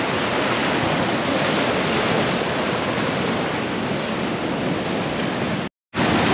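Ocean surf at Bodega Bay on the Northern California coast crashes and washes over rocks in a loud, sustained roar with wind buffeting the microphone, broken by a brief dropout near the end.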